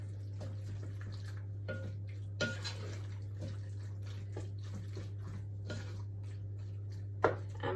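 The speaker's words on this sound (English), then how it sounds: "give that a nice stir around, get everything nicely coated with the sauce." Peppers and tuna are stirred through sauce in a pan for a pasta bake, giving faint, scattered scrapes and light clinks over a steady low kitchen hum.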